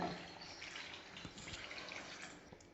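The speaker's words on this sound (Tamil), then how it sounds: "மட்டன் வேகத்துக்கு தண்ணி சேர்த்துக்கிறேன்" Water poured into a pot of mutton while cooking at home, a steady continuous splashing pour heard close and alone for a few seconds.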